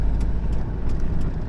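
Van rolling slowly along a rough road in Senegal, a steady low engine and road rumble close by with no pauses.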